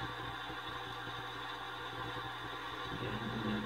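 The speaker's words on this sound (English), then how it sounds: "Start the old tractor up." An old tractor engine in Farming Simulator 19 runs with a steady low mechanical drone. Near the end its pitch shifts slightly, as if it catches and settles into idle. No one speaks.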